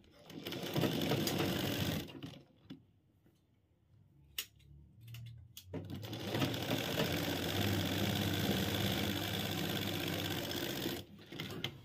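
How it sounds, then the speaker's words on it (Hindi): An electric sewing machine topstitches a trouser cross pocket in fast, close, rattling bursts, first for about two seconds and then in a longer run after a pause filled with fabric handling. "ऊपर से एक पैर की सिलाई लगा देंगे"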